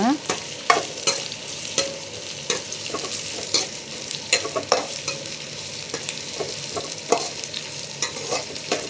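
Onions sautéing in a generous pour of oil for a South Indian fish curry, with a steady sizzle broken by repeated sharp scrapes and knocks of a spoon stirring the pan, close and fairly loud, no talking.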